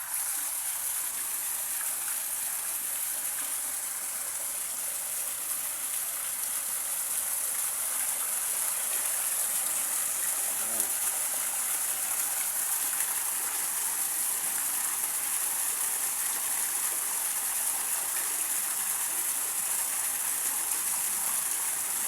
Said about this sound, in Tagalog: Kaya tinatry namin lagyan ng tubig.